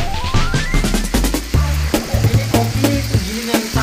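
Loud, crackling oil sizzles as snakehead fish fries in a pan, with scraping and clattering of a utensil and occasional bubbling pops.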